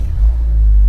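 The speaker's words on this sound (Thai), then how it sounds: "นี่เสียงท่อแบบจะทุ้มๆหน่อยนะครับ" A Mazda 2 Skyactiv 1.3 with an aftermarket exhaust revs briefly with a deep, loud exhaust rumble, heavy in low bass and close by.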